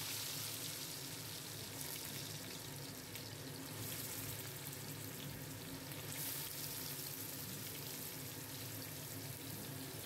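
Drained radish fries with green chillies in a pan, producing a dense, even sizzle that holds steady at moderate level from start to finish.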